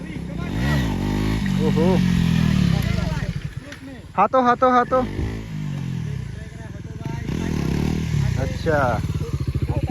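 A Bajaj NS400Z motorcycle being ridden, its engine note rising and falling with revs and gear changes, close and loud, while the rider talks and exclaims over it.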